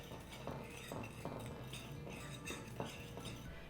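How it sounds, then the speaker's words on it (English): A utensil stirs oat flour, baking powder, cinnamon and salt in a bowl, producing faint, regular clinks and scrapes about every half second, quiet and close with no talking. "And then give this a quick little stir."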